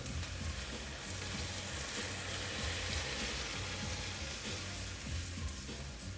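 Vegetarian caramel of brown sugar sizzling in a frying pan, a steady, dense hiss and crackle that holds at an even level from start to finish, close up with no voices.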